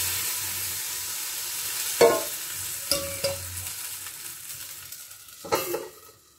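Chakli pitha batter sizzles in a hot pan, a steady frying hiss broken by a few sharp clinks and scrapes of a ladle against the pan, heard close with no talking.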